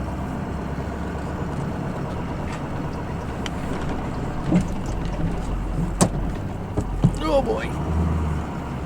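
A pickup truck engine drones low and steady while straining to push its heavy front end through a field on an elk hunt, with a person speaking briefly over it.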